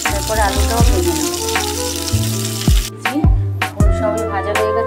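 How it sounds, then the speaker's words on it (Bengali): Potatoes fry in oil in a home kitchen with a bright, continuous sizzle and a few utensil knocks. Partway through the sizzle drops away, leaving scattered clinks and splashy sounds. "তারপরে আলুটাও ভেজে নেব"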